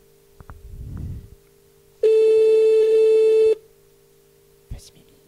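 A telephone ring tone on a call to a radio show: one steady, loud electronic tone lasting about a second and a half, with faint talk and rustling just before it and a short click after.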